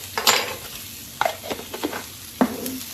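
Peppers and onions sautéing in garlic butter in a non-stick pan, with sharp intermittent scrapes and stirs over a steady background sizzle, close and fairly loud.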